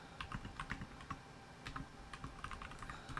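Quiet, uneven clicking of keys on a computer keyboard, bursts of typing with short pauses, close by and without talk.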